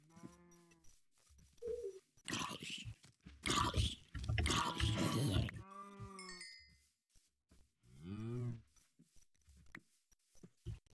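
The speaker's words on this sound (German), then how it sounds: "Hier sind nur Kühe unterwegs." Cows mooing in the Minecraft video game, several low drawn-out bovine calls spread across the stretch with short gaps, fairly close and clear, with no talk over them.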